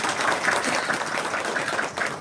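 Audience at a Hindi-language political gathering on CAA citizenship clapping in steady, dense applause that holds evenly throughout, with no voices standing out.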